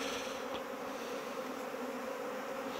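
Honeybees buzzing at a beehive, a steady dense insect hum holding evenly throughout at moderate level with no voices over it.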